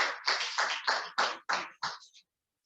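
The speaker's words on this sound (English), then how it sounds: "Can we give ourselves a round of applause for this?" Group clapping at a parents, teachers and stakeholders training on school-related gender-based violence: about seven loud, evenly spaced bursts of applause in a steady rhythm, then an abrupt stop into silence.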